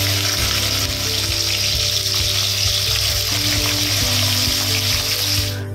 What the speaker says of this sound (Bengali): এবারে এর মধ্যে দিয়ে দিচ্ছি কুচিয়ে রাখা পেঁয়াজ